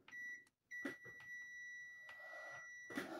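A multimeter continuity tester beeping across a short-circuited optocoupler in a Philips 32PHG5000 television, a steady tone sounding in close repeated stretches with brief interruptions, faint amid handling clicks and rustle.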